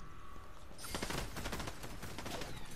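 A drum gun fires in a video game, a rapid continuous burst of automatic gunfire that starts partway through and keeps going at a steady loud level, with no talking.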